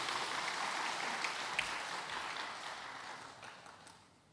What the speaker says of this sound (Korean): 다 같이 우리 박수로 축하하겠습니다.